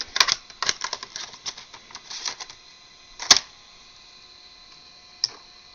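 Floppy disk drive in a Gateway2000 Nomad 450DXL laptop inserting and reading a disk, producing a burst of rapid mechanical ticks and clicks, then a sharp clunk and a single later click, close and otherwise quiet.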